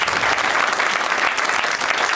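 Warm, sustained applause from a comedy podcast's live audience greeting guest Bob Saget, dense clapping rolling on steadily throughout.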